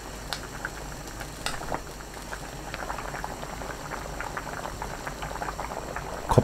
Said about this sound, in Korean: 들깨가루 듬뿍 한 큰술 넣고 섞은 뒤 1분 더 끓입니다.